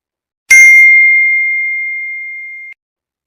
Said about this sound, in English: again that bell sound will come.